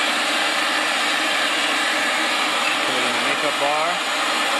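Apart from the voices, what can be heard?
pipe threading machine running and winding down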